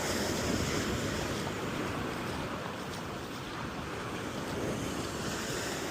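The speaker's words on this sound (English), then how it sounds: "the waves are really coming in" Ocean waves roll in on Coronado beach in a continuous broad wash of surf with wind buffeting the microphone, and no voices.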